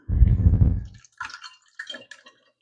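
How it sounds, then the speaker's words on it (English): Thai sweet chili sauce is poured through a funnel into a glass jar over a sink: a thick glugging pour at first, then a few short wet drips and splats, close up with no voices. "I'm just going to pour it"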